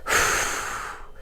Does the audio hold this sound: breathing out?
yes